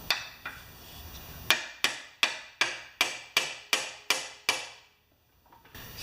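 A hammer drives the wedge end of a chisel against a stuck pressure washer motor part: about nine sharp metallic blows at an even, brisk rhythm, loud and close, then a pause.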